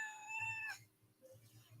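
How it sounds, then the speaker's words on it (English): A pet cat gives one clear, high, drawn-out meow up close. A few faint household sounds follow in a quiet room. "She likes to meow."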